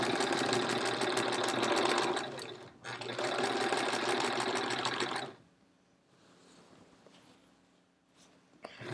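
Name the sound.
sewing machine sewing binding onto a quilt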